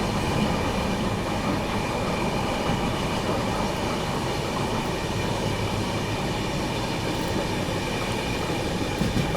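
Maharashtra Sampark Kranti Express passenger train on the Mumbai–Delhi route running through hilly country, a steady close rumble of carriages and wheels that carries on throughout without a break.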